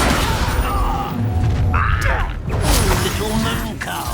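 Confringo blasting spell in the Hogwarts Legacy video game, heavy booming impacts with rumble and mechanical crunching, loud and dense throughout a short burst of combat.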